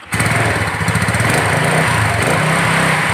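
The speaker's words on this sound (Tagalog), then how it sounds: "yun ang tunog ng kanyang makina" A 2019 Rusi Royal SC-125 motorcycle engine starts up and then runs loud and close, a steady, fast, pulsing putter that holds at an even pace without any voices.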